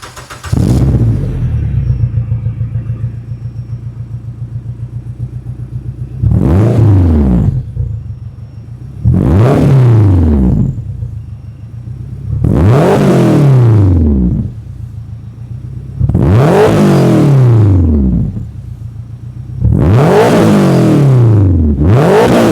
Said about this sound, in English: Let me go ahead and turn on the car for you guys so you guys could actually hear it.